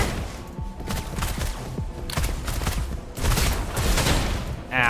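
Rapid bursts of gunfire from Chixia's guns in Wuthering Waves, dense and loud, with overlapping shots and impacts forming a continuous fusillade.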